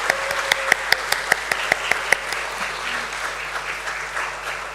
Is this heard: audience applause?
yes